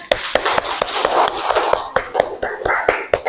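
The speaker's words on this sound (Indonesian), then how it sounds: "Beri tepuk tangan" A classroom of students claps together, a quick run of sharp, close hand claps in a loose, uneven rhythm that continues steadily, with soft murmuring underneath.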